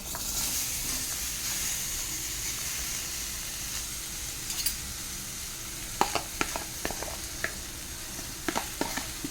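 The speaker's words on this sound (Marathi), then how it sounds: "कढई पण आपली चांगली गरम झालेली आहे तर त्यामध्ये आता आपण हे सर्व घालून घेऊया" A potato and vegetable mixture sizzles steadily in a hot kadhai, a continuous close hiss with scattered sharp crackles and light stirring clicks toward the end, no talk.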